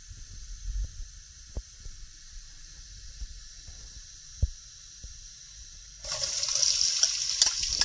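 Hot cooking oil in a pan crackles and hisses steadily before onions go in for aloo paratha, growing into a louder, denser sizzle in the last couple of seconds with occasional sharp pops.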